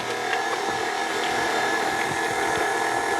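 A steady, continuous motor whir from an electric mixer blending egg and vanilla mixture into chocolate chip cookie dough, constant and close throughout with faint knocking against the bowl.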